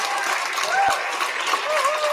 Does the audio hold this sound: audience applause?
yes